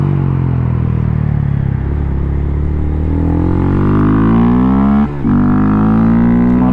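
A Lexus IS F Sport, not the V8 model, drives past loudly, its engine and exhaust swelling in a rising rumble that peaks with a sharp dip as it passes, then carries on revving.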